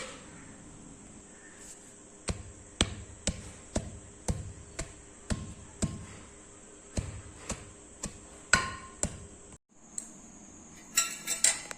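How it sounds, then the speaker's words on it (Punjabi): Jaggery being pounded into small pieces, about a dozen sharp, evenly spaced knocks close by with a clinking ring, followed by a short scrape and rattle at the end. "ਗੁੜ ਵੀ ਕੁੱਟ ਲਿਆ ਆ"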